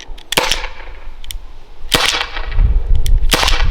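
Byrna SD less lethal pistol firing, three sharp cracking shots spaced about a second and a half apart, loud and close with rustling between.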